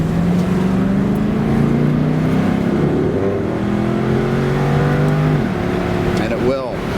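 A 2007 Jaguar XK convertible accelerates hard in sport mode, its engine note rising steadily through the revs, dropping at a shift, then climbing again, heard from inside the cabin with the sound held loud and continuous.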